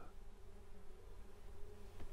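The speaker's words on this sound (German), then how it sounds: "Ach, die Bienen sind schon wieder fertig." Bees buzz in the survival video game 7 Days to Die, a faint, continuous droning hum that holds steady for about two seconds with no speech over it.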